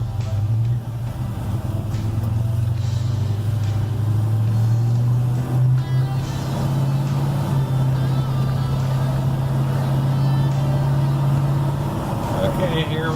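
A 1969 Chevrolet C10 short-wheelbase pickup fitted with a Gear Vendors overdrive drives along, its engine holding a steady, loud low drone throughout while someone talks over it.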